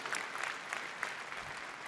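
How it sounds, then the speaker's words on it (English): Brief, fairly faint burst of audience applause at a technology conference keynote, steady clapping from a large hall. "Big applause and thanks a lot to all of you"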